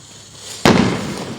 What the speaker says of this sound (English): There's some bigger fireworks over there.